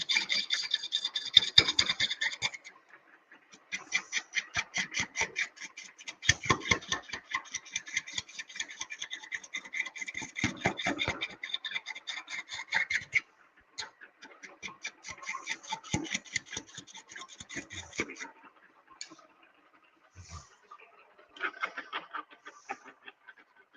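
Rhythmic rasping strokes of a tool's flute being sharpened at a 45-degree angle, the grinding passes coming in steady bursts, close and fairly loud, then speeding up with lighter, quicker strokes before trailing off.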